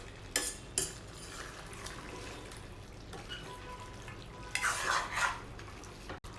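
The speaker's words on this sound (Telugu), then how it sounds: "ఇదంతా కూడా చికెన్ టొమాటో బాగా కలిసేటట్టు మిక్స్ చేసుకోవాలండి" Chicken and tomato curry stirred in a pan for gongura chicken curry, with a few sharp scrapes and clinks of the spoon against the metal and a longer scraping burst near the end over soft background noise.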